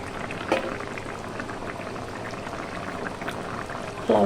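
A pot of Bengali koi fish curry gravy with potatoes simmering on the stove, giving a steady close bubbling and faint popping that runs throughout, with a brief louder stir near the end.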